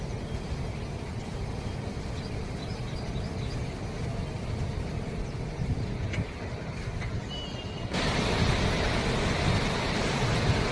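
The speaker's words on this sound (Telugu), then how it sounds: "ఒడ్డెపల్లి అలుగు తొక్కుడి ప్రవహిస్తున్న వరద ఉధృతి ముంతా తుఫాన్ ప్రవాహం" Cyclone floodwater pouring over the spillway of Oddepalli lake in Hanamkonda, a steady broad roar of rushing water throughout that grows louder and fuller in the last few seconds, with no talk.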